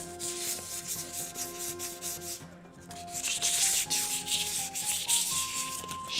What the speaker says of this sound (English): Let me finish polishing the knob first, guys.